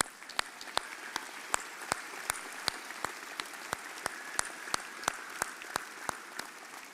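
Audience at a San Jacinto College fall commencement claps for graduates' families and friends, a steady field of applause with sharp individual claps standing out throughout, with no talk over it.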